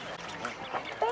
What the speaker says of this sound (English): Look at these cute little ducklings.